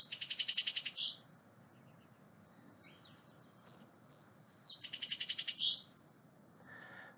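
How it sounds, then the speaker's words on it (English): Sparrow calling in two clear bursts of rapid, buzzy chirped trills, with a thin high note in between and a faint chirp near the end, close and alone against a quiet background. "Sparrows encompass a large group of birds and are often difficult to identify as species, even for experienced birders, and may have a sound like this."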